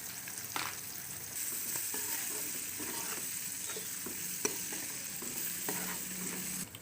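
Masala paste fries in a pan for a thick fish gravy, a continuous bright sizzle with occasional scrapes and stirring taps of a spoon, close and fairly quiet, with no voices.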